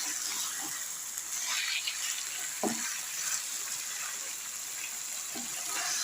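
Cauliflower and spices fry in a pan with a constant hissing sizzle, broken by occasional scraping stirs. A voice talks quietly in the background.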